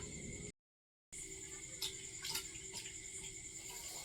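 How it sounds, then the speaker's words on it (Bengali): A water tap runs faintly and steadily while hands are washed, with a brief cut of silence early on and soft splashes rising over the thin stream. "রিমি তুমি হাত ধুয়ে নাও"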